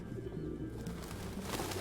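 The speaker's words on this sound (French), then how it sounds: "Mais insupportable les pigeons." Pigeons cooing in the Detroit video game, a few soft, low throaty coos close by over a faint city ambience.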